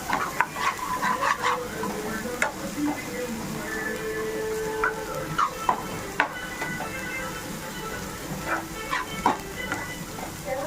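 Half a kilo of mutton frying with garam masala in a pan, with a steady soft sizzle throughout and repeated close scraping and stirring strokes of a spoon against the metal, sometimes sharp and clattering.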